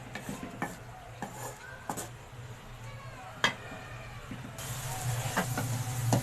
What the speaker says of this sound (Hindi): प्याज को अच्छी तरह भूनेंगे।